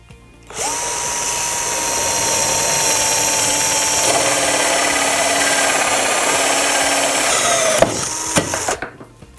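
A power drill fitted with a hole cutter bores into pallet wood for a workbench, a loud steady whine with a pitch drop partway through, then a brief stutter and spin-down near the end.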